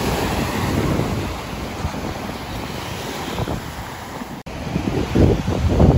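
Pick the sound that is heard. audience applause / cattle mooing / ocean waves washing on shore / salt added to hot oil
ocean waves washing on shore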